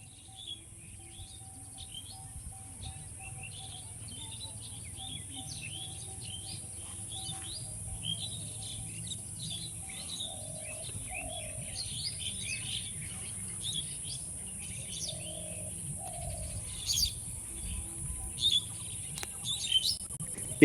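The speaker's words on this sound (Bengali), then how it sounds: "এই নির্জন এলাকায় পাখির কুজনটা একবার শোনো" Birds chirp and twitter steadily in a deserted, quiet spot beside the Tangon river, with a faint insect and cricket drone and a low background hum beneath, growing slightly busier toward the end.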